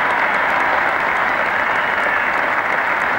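Crowd at a 1970s cricket match applauds Greg Chappell reaching his first hundred in England, a dense, steady roar of clapping that fills the whole moment at constant loudness.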